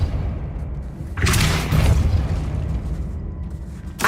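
Depulso force spell cast in Hogwarts Legacy, a heavy booming blast that swells mid-clip over a constant rumbling background, followed by a lighter thump near the end.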